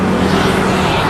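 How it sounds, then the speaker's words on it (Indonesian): Cars and other motor vehicles pass along a Jakarta street on a Saturday morning, making a steady, fairly loud traffic roar with a low engine hum that runs through the whole stretch without a break. "mobil yang lalu lalang, kendaraan bermotor yang lalu lalang"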